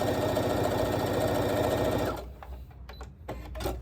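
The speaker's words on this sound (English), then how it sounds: "I'm just going to sew, making sure that it's staying in place" A sewing machine stitches stretchy plaid shirt fabric for a quilt block, whirring in a rapid, steady close hum for about two seconds, then stops, leaving faint handling noises.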